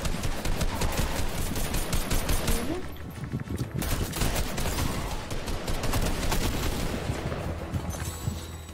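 Rapid gunfire at bots in Fortnite, dense continuous bursts of shots with a short lull midway, close and loud, with no voices.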